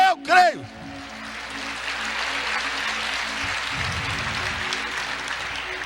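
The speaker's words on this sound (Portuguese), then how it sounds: "Aplauda o Senhor" A church congregation breaks into steady, sustained applause that fills the room after a brief spoken phrase at the start, the clapping holding at an even level to the end.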